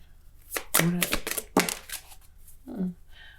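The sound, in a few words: shuffling tarot cards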